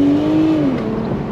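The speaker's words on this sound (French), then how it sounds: "BMW a su vraiment bien travailler la sonorité" A BMW Z4 M40i with the 340-horsepower B58 straight-six and rear-wheel drive sends out a loud, close engine note that rises slightly and then falls away, over a rumbling road-noise bed.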